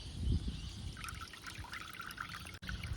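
Water trickling and draining out of soaked soil growing media after lifting it from a water bath, a steady soft dribble with a scattering of drips, quiet and close.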